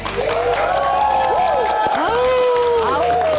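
Audience applause and cheering at a live talk show in front of a crowd, loud and continuous, overlaid by a tonal sweeping sound and broken up by voices.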